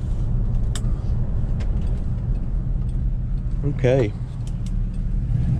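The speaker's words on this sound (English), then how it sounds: "We're rolling through these parking lots here to get to a good spot to pull out" A car rolls slowly through parking lots, a steady low engine and road rumble close by with a few small clicks, while a voice speaks briefly.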